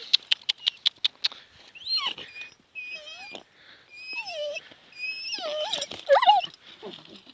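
A dog wanting to play whines and yelps in excited, pitch-sliding cries, preceded by a quick series of short sharp sounds, close by with no talking.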